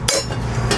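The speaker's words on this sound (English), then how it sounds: "But you can tell when you hit your anvil, right?" Hammer striking cymbal metal on an anvil in a cymbal factory, a sharp metallic hit near the start and another near the end, close and loud over steady workshop background noise.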